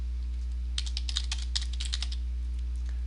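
Fingers type on a computer keyboard at close range, about a dozen quick keystrokes in a short burst over a steady electrical hum, then the keys fall silent.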